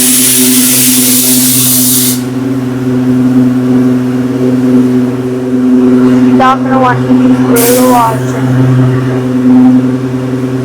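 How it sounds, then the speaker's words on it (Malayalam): Cleaning liquid hisses from a spray nozzle during a car wash, a loud burst of hiss at the start and another short burst later, over a steady mechanical hum with brief voices between. "നമ്മൾ സ്പ്രേ അടിക്കാൻ പോവാണ് ഇപ്പോ"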